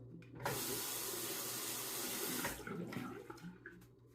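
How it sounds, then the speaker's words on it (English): Tap water runs in a steady gush into a sink to wet a Schick Krona razor before shaving, loud and near for about two seconds, then softer splashing and dripping as the razor passes through the stream. "I'll wet the razor."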